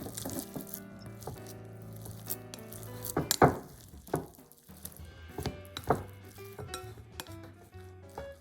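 Hot rice and salt being mixed in a bowl, with close, intermittent clinks, taps and scrapes of a utensil against the bowl and a few louder knocks; no voices.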